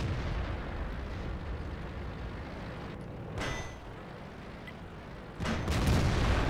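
Tank cannon fire and explosions in the World of Tanks video game form a dense, loud wall of booming rumble, with sharp blasts standing out near the middle and a heavier burst toward the end.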